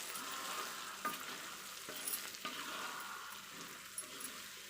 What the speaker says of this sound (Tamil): எல்லா இடத்துலையும் படுற மாதிரி நல்லா வதக்கிக்கலாம்